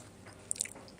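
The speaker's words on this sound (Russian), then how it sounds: "Жую детский орбит" Kids' Orbit chewing gum is chewed close to the mouth in a pet shop, a quick run of soft, moist crunches and clicks lasting about a second.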